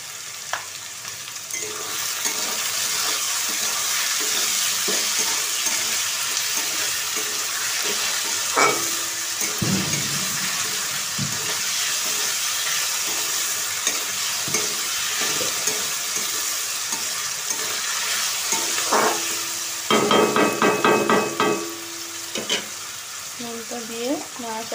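Chowmein with potato and onion sizzles and frys in a pan as salt is stirred through, with a spatula scraping and clattering steadily up close and a few sharper knocks against the pan.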